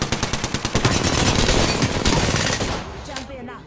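Automatic weapon fire in a video game firefight: a rapid rhythmic burst of close, loud shots, followed by dense overlapping gunfire that tails off toward the end.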